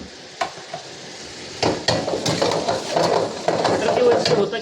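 Butter goes into a pan of mutton pieces cooking in a restaurant kitchen, with a soft sizzle, stirring and clinks of a spoon against the pan building over the last few seconds.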